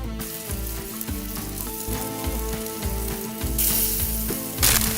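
Animal fat or bacon sizzles and spits in a pan with corned beef as survival rations fry outdoors on a cold Wisconsin winter night, a steady dense crackle with occasional stirring scrapes and a louder burst near the end.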